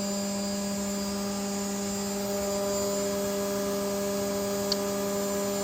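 A 2012 Haas VF-4SS vertical machining center spindle spins at 12,000 rpm, a steady tonal hum with layered whining overtones that holds constant throughout, with no voices.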